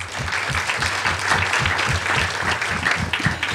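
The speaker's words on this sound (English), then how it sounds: "So let's give a big round of applause for Sari." An audience at a Florida Film Festival panel on women in the film industry gives a steady round of applause, dense even clapping filling the room throughout.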